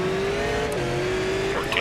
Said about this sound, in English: Spun the tires